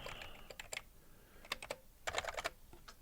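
Fingers tap at a computer keyboard up close in quiet bursts, clusters of sharp clicks separated by short pauses, with faint background hiss and no talking.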